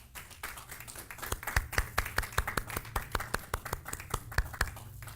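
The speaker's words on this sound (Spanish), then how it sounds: "Dale otro aplauso para ellos" Applause at a church service, heard as a small group's sparse, individually distinct hand claps that build from faint into a fairly regular rhythm, moderately close.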